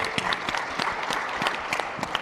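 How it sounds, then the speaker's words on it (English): Audience applause after a startup pitch at a Shark Tank-style competition event, a steady crowd clapping with a few sharper individual claps standing out, sustained throughout without any speech. "Let's have a round of applause, please, for Greg."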